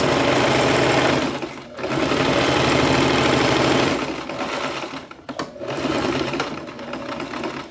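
A sewing machine stitches along the sides of a draped jacket, running loud and close in rapid continuous bursts with short pauses between runs.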